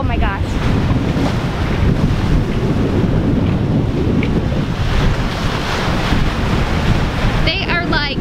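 A sailboat pounds through ocean waves at sea, rushing water and surf roaring continuously with heavy wind buffeting the microphone, loud and unbroken, with a faint high squeal near the end.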